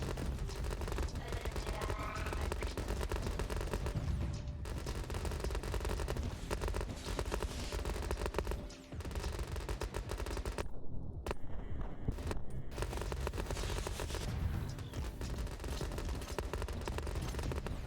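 Dense, continuous gunfire and machine-gun rattle from Grenadier units and other troops in a Rogue Command battle, loud and relentless with brief dips, layered with explosions.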